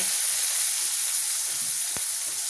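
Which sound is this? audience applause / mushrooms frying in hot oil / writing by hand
mushrooms frying in hot oil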